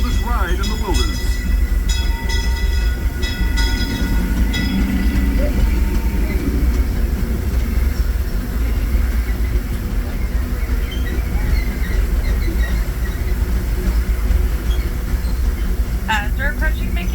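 Disneyland Railroad train pulling in toward Mickey's Toontown Depot, a steady loud rumble and rolling clatter of the cars throughout, with a spoken announcement over it and a brief bell-like ring near the end.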